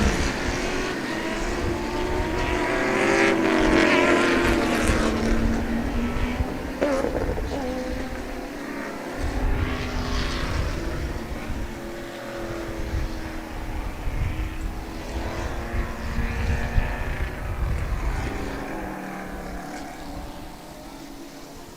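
A pack of race cars at Sebring roaring past together, engines loud and continuous with rising and falling pitch as they sweep by, a dense sustained rumble without talking.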